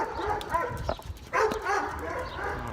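A dog barking and yipping during an obedience training session, a few short excited barks and whimpery yelps close by, mixed with rustling movement.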